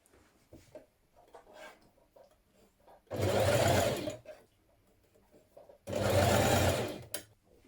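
A sewing machine hems a small curved sleeve on a summer dress, running in two close, steady bursts of about a second each, separated by quiet pauses with faint handling noises.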